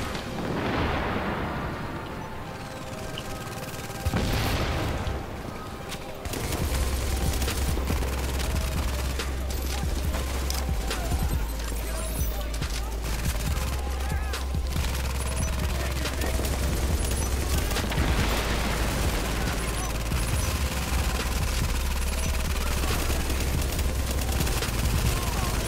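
Sustained gunfire rattles through a squad firefight in The Division's Dark Zone, with dense bursts and heavy booms layered over a low rumble, loud and continuous for the whole stretch.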